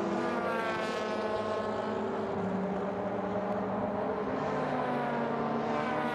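A touring car in a 2014 WTCC race in Japan roars down the straight, its engine a loud, sustained high-revving drone with a steady pitch and no voices over it.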